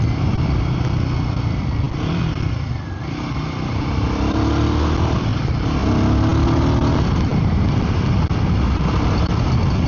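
A Royal Enfield Guerrilla 450 motorcycle ridden steadily, its engine a continuous loud drone with rumble and road noise throughout, no voices.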